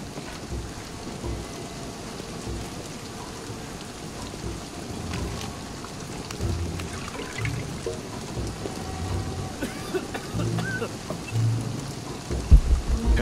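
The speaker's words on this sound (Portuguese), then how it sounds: "Essa tempestade tá chegando rápido." Steady rain and low rumbling thunder from a storm in the video game Shadow of the Tomb Raider, a dense wash of noise that swells slightly toward the end with a few low thumps.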